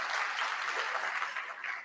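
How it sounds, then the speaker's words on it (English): Applause from an audience at a medical college fellowship induction ceremony, a sustained, even wash of many hands clapping, moderately distant and unbroken for the whole stretch. "A round of applause for our African mothers"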